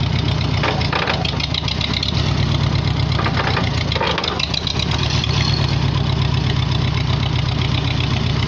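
A 1944 Farmall H tractor engine running with some throttle applied, a loud, steady, rough knocking chug close by that holds constant throughout, no voices.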